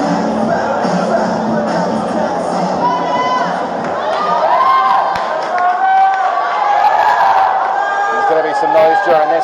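Loud, steady crowd cheering and shouting at a 49kg open-category kickboxing match in Singapore, a dense roar of many voices with children's shouts rising and falling throughout, continuous and close.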